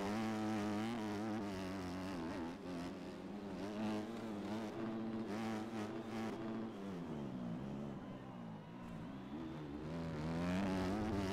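A race car at the Glen Helen track, its engine droning steadily and loudly throughout with gentle rises and dips in pitch, no talk over it.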